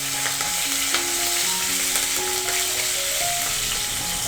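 Curry leaves, asafoetida and green chilies sizzle in hot oil for a rice dhokla tempering, making a loud, dense, continuous hiss and crackle with occasional stirring.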